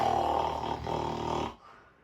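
Children imitate snoring together, a continuous raspy, droning snore held for about a second and a half before cutting off sharply, close and fairly loud.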